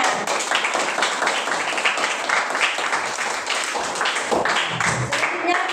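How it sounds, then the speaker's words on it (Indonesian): Applause in a classroom, a steady burst of many hands clapping together loudly for several seconds, with voices mixed underneath. "Tepuk tangan semuanya."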